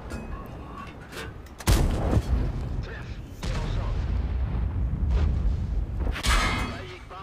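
Heavy tank cannon shots in World of Tanks: several loud, booming blasts spaced a second or two apart, each with a sharp crack and a rolling low tail over continuous engine and battle noise.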